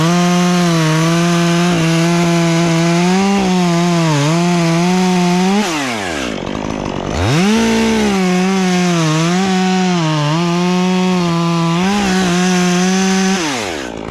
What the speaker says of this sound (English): Why I brought up the bigger saw. It just gets through this stuff easier